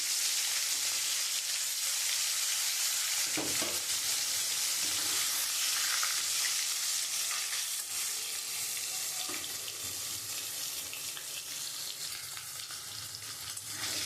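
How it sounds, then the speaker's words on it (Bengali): Rui fish pieces rubbed with salt and turmeric sizzle in hot oil for a rui curry with ridge gourd, a steady close, loud frying hiss with brief crackles and a few bursts as the fish settles. "আমার তেলটা গরম হয়ে গেছে আমি নুন হলুদ মেখে রেখেছি আমি এবার মাছটা দিয়ে দেবো"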